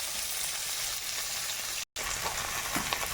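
Chopped onion, garlic and green chili sizzling in oil in a frying pan, a steady close crackling hiss with a momentary gap partway through.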